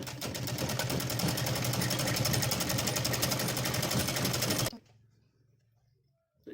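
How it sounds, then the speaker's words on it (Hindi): A sewing machine stitches leftover fabric scraps in a fast, loud, even mechanical rattle that stops abruptly, leaving a faint low hum and brief quiet. "अब चारों तरफ से हम इसकी सिलाई कर लेंगे।"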